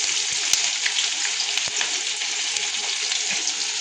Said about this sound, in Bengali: পেঁয়াজটাকে আমি ফ্রাই করে নিই ভালো করে